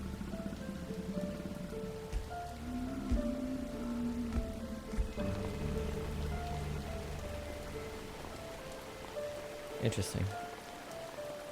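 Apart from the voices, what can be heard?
rain falling in a video game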